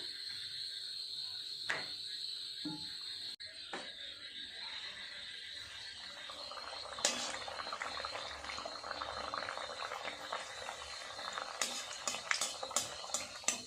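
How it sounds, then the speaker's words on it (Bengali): Faint, steady bubbling and hissing of naan frying in hot oil that grows busier and crackly partway through, with a few soft knocks; no speech. "তেলটা আমার গরম হয়ে গেছে এগুলো ভাজা শুরু করে দিই"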